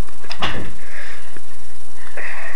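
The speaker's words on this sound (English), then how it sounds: "He closed the cat door." A cat door swings shut indoors with one sharp, close knock followed by a faint rattle, then quiet room tone.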